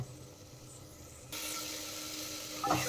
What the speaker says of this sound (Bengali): জল দিয়ে কিন্তু একটু ভালো করে কষিয়ে নিতে হবে।